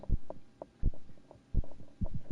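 Heartbeats in Hollow Knight: Silksong, a steady low double-thump pulse repeating about every three quarters of a second over a faint hum, close and moderately loud.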